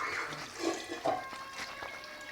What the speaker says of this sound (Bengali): আমি একটু জল অ্যাড করছি,